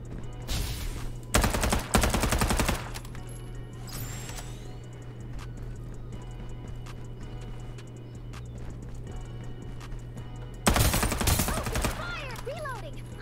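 M4 rifle gunfire in the video game Farlight 84, with several loud rapid bursts of automatic shots separated by quieter stretches of game ambience and faint clicks.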